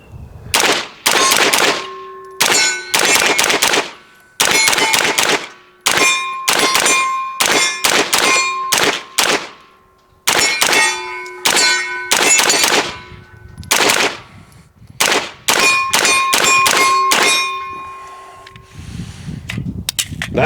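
A Magpul Scorpion pattern magazine drops free from a PSA Jakl, and sharp metallic clacks and clangs come in quick close bursts with short gaps between them, with no voices.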